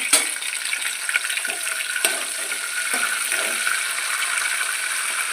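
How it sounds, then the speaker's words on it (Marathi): Cumin, mustard seeds and curry leaves fry in oil for kadhi, making a steady hiss with a few sharp crackles and clicks of stirring, close up and without any voices. "जिरं मोहरी आणि कढीपत्ता आपल्याला छानशी भाजून द्यायचा"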